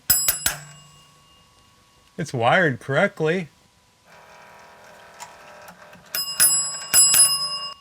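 An electric alarm bell on a field bed pump alarm rings during a float-switch test, giving loud bursts at the start and again near the end, with a voice talking in between.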